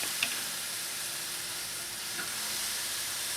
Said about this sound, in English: So we're going to go ahead and put our skewers on.